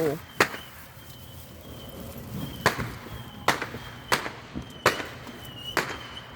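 Fireworks explode at a distance in a series of about eight sharp, booming cracks at irregular intervals, with a steady background hiss between the bangs.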